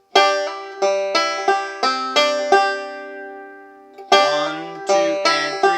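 Bluegrass banjo picks a measure of "Hard Times Come Again No More" in steady rolling plucked notes, ringing close and clear with no voices, pausing briefly before resuming.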